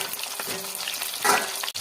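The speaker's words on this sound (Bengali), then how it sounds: "সব একসঙ্গে ভেজে দেবো লাল করে।" Rohu fish head, lentil dumplings, bay leaves, dried red chillies and whole spices fry together in hot oil, giving a steady close sizzle with a brief louder crackle burst midway.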